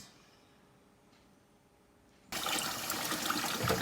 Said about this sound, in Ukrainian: Промиваємо рис, промиваємо весь рис.